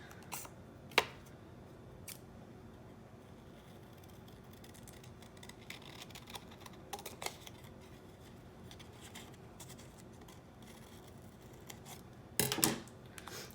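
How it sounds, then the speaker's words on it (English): Scissors cutting out a drawn paper shape: quiet, close snips and paper rustles, with a couple of sharper cuts near the start and end, over a faint room background and no speech. "So now that that's drawn, we're going to cut it out."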